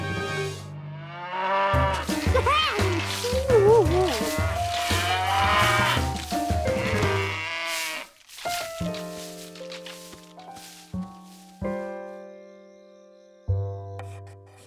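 Cartoon cows moo in long, loud, wavering calls, first overlapping and then separating into a few shorter lowing notes with gaps between them, and no speech.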